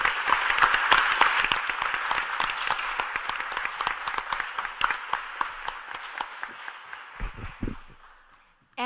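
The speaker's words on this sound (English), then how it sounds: "please give them another round of applause for pulling this off." Applause from the audience at an evening commission meeting: dense, steady clapping from many hands that stays loud for most of the stretch, then thins and fades into a few scattered claps near the end.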